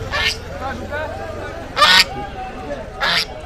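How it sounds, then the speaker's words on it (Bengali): Ducks and geese, including local, Chinese and swan geese, honk and call at a village duck market, with three loud bursts standing out over a constant murmur of voices and crowd noise. "এই যে হাঁসের হাট। এখানে অনেক ধরনের অনেক প্রকারের হাঁস আছে, দেশি হাঁস আছে, চায়না হাঁস আছে, আপনার রাজহাঁস আছে"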